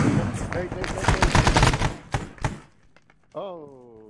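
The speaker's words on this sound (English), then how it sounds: "Ah! A grenade!" Gunfire and a grenade blast in the Arma 3 Prairie Fire Vietnam side op, a loud dense burst of repeated shots and impacts for about two and a half seconds, fading into scattered pops before someone shouts.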